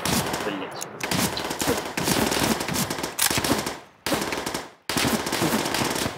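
Call of Duty: World at War custom campaign gunfire, dense bursts of rapid machine-gun fire with brief gaps between volleys, loud and close.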